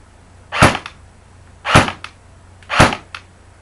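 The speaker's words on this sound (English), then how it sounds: "That was 3 shots." Three sharp, evenly spaced snaps ring out from a JG M5-A4 airsoft rifle fired without a suppressor, each crack loud and close with a short tail, then quiet between shots.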